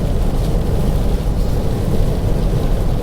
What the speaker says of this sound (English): So even driving in rain, it's a new experience.